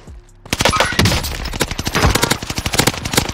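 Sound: gunfire in video game Call of Duty Warzone Pacific

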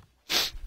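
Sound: sneeze

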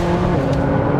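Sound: 2016 McLaren 675 LT track car driving on a track

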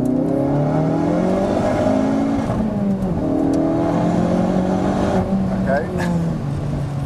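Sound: Hendy Performance HP500 Ford Focus RS wheel spin accelerating in second gear

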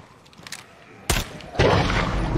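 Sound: gunshot in State of Decay 2 video game

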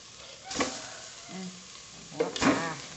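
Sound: sliced fish added and stirred into Thai curry

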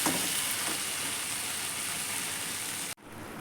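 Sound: sautéing vegetable curry with fried lentil fritters

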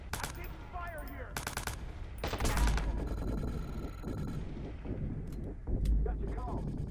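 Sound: gunfire in Watch Dogs video game

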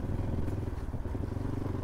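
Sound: Royal Enfield Bullet motorcycle riding on rough road

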